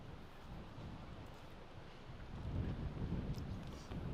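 Steady wind buffeting the microphone on an outdoor disc golf course, a constant low rumble that swells louder toward the end, with no voices.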